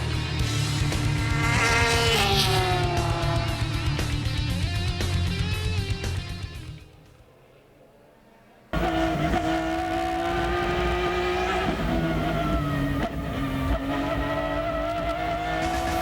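Sports cars including a Ferrari GT2 race at Mosport, engines roaring loudly past with rising and falling pitch, a brief near-silent gap midway, then a continuous close roar.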